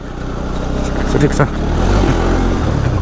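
A motorcycle rides along a village route, its engine droning and revving steadily up close under a rider's brief speech.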